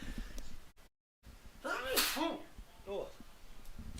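A sharp, forceful sneeze bursts out once near the middle during a live hockey game broadcast, loud and close with a breathy onset, with talk around it.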